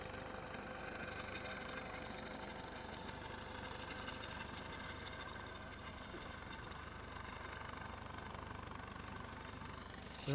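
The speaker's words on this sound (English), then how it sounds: "And the helicopter approaches slowly again." A Coast Guard helicopter hovers and approaches slowly, its steady rotor thump and engine drone loud and continuous throughout with no break.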